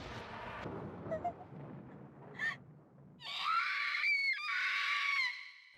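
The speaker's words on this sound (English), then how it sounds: "Good scream there." A girl's high, sustained scream from the horror video game Corpse Party, loud and close, breaking briefly midway and lasting about two seconds, preceded by low rumbling game ambience and a short sharp cry.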